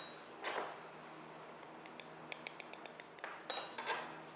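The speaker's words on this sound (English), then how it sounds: "I'm gonna spoon and level this flour as well." Flour for a cheesecake is spooned and levelled in a quiet kitchen: a few faint scrapes and light metallic clinks of a spoon against a cup or bowl, close and sparse.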